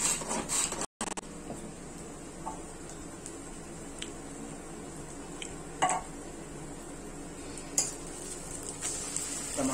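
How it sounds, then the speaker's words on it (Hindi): Onion, garlic and ginger fry in a pan with a steady close sizzle, punctuated by a few light scrapes and knocks of a utensil against the pan. "इधर हो रहा है हमारा प्याज फ्राई, लहसुन प्याज अदरक"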